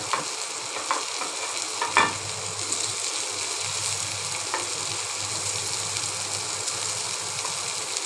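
Chopped onion and garlic fry in a pan, giving a constant close sizzle with a few sharp scrape and stir clicks near the start.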